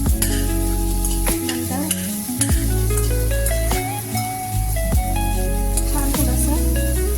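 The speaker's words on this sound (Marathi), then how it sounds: "कांदा आणि लसूण, आलं आणि मिरची आता आपण थोडंसं भाजून घेतोय त्याच्यामध्ये." Onion, garlic, ginger and chili sizzle loudly in a hot pan while being stirred and roasted, with steady frying hiss and repeated scraping strokes; a voice speaks briefly.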